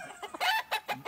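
A rooster gives a quick run of four or five close, sharp clucks that fill about a second, with no other sound around them.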